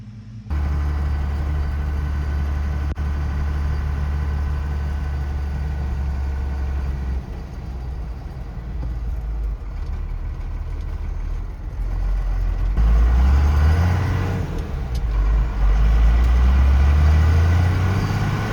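A Ford truck with a swapped Cummins diesel engine driving, a steady loud low engine drone inside the cab that rises in pitch as it accelerates toward the end, with no talking.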